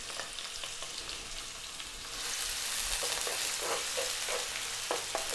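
Onion and garlic drop into hot sunflower oil over high heat, and the pan's sizzle swells abruptly partway through into a loud, steady hiss with occasional stirring scrapes; no one talks.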